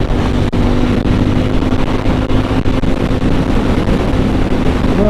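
A Ducati Panigale V4 motorcycle engine drones steadily while riding, close and loud, under heavy wind rush.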